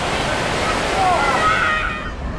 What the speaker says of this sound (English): some waterfalls there.